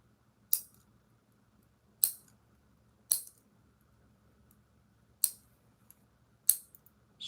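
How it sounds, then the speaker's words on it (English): Fingernails are trimmed shorter with clippers, five sharp isolated snips spaced about a second apart, close and crisp against near silence. "So I'm gonna trim all the nails shorter."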